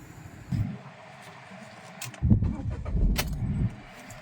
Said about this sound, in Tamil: இப்போ அடுத்ததாக நம்ம வந்து வண்டி ஸ்டார்ட் பண்ண போகிறோம்.